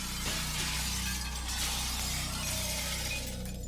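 Bus windows shatter in a dense, continuous wash of breaking glass, loud and crackling for several seconds over a low rumble, with no voices.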